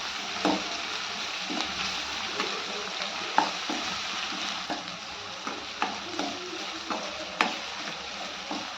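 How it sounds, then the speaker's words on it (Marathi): Ginger garlic paste fries in a hot kadhai with onions and green chillies, a steady close sizzle broken by periodic scrapes and clinks of a spatula stirring, with no talk. "त्यानंतर ही आलं लसूणची पेस्ट टाकूया आणि ती पण आपल्याला या कढईमध्ये छान अशी परतून घ्यायची बघा"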